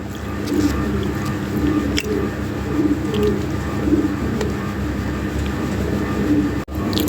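A pair of black Lahori toy pigeons coo in soft, rolling calls close by, layered over a constant low rumble with no talk.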